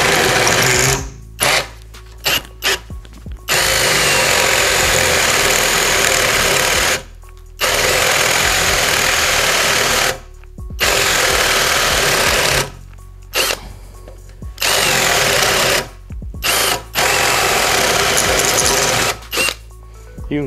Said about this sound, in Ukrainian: Ми спробуємо пером 40-ковкою. Зразу на другій швидкості.